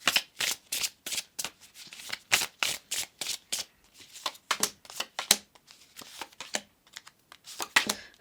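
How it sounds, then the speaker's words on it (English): A tarot card deck is shuffled by hand close up, a rapid series of crisp riffling bursts in an uneven rhythm with brief pauses between them, heard alone without talk. "Okay, and then your main tarot deck. Let's do some cards."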